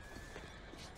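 A horse in Red Dead Redemption 2 whinnies and hooves clip-clop over a steady ambient bed, with no talking.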